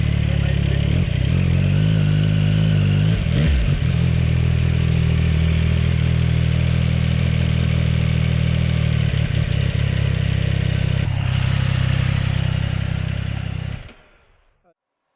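A Triumph 675 Street Triple R motorcycle engine runs loud and close as the bike rides at high revs, a steady raspy drone with a brief dip partway before the sound cuts off abruptly near the end.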